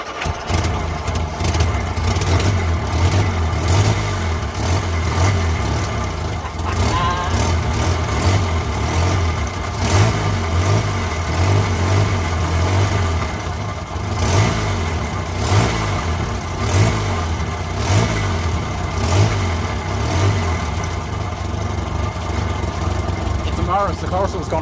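A barn-find Morris Minor engine runs steadily at idle with a slight exhaust blow, a continuous low mechanical drone holding even throughout, close and loud.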